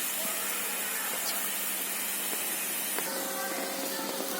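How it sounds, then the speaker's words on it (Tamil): Mustard seeds and onion frying in hot oil for a tempering, a dense, steady sizzling hiss with occasional small pops and crackles, close, with no talk. "கடுகு, எண்ணெய், கடுகு, ஆனியன் போட்டு தாளிச்சு விட்டுருக்கேன்"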